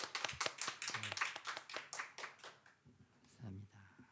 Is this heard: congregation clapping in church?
yes